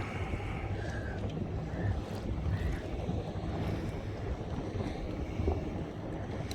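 A boat, a Three Waters Big Fish 120, rides through ocean swells about 4.5 feet tall hitting its side, with steady wind buffeting the microphone and water washing and slapping against the hull throughout, with no talk.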